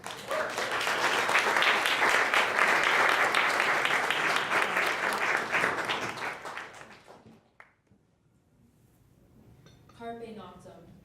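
An audience at a high school poetry awards event gives a big round of applause for a winner, with dense clapping that runs about seven seconds before dying away, followed by a brief stir and the start of a voice.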